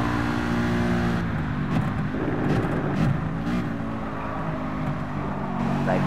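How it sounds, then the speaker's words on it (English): Lamborghini race car in Gran Turismo Sport, a steady loud engine drone with shifting pitch as cars run close together, a continuous roar with no talk over it. "There goes the Lambo."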